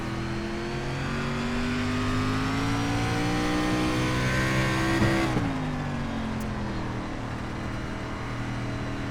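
An iRacing SRX Series race car engine at Knoxville drones loud and steady as it rises in pitch under throttle, then drops sharply on a downshift before climbing again.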